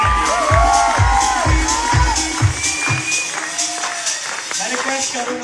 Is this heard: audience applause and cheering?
yes